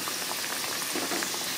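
Badam puri frying in hot oil in a pan, sweet dough pieces turned to brown on both sides; a steady soft bubbling, close and even, with no talking.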